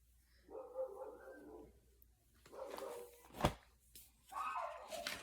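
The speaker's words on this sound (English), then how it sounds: "There's a dog outside, and there's a really aggressive dog that lives across the street, and Sammy hates him." A dog barks outside in three separate bursts of rough, hoarse barking, with a sharp knock between them. The barks sound muffled and somewhat distant.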